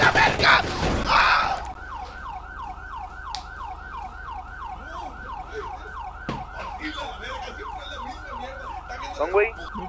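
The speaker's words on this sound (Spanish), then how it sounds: "Las pinches sirenas las traigo de adorno, güey." Emergency vehicle sirens in a video game wail in a fast repeating up-and-down pattern for several seconds, following a burst of loud shouting, with voices and game noise around them.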